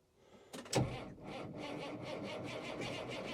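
A 5130 tractor engine cranks briefly, catches with a loud burst, then settles into a steady, rhythmic chugging idle at close range.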